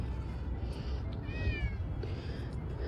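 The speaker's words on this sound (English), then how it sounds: "So there's the kitty." A thin stray cat gives a single high, rising meow mid-clip, close but not loud, over a steady rumble of outdoor background noise.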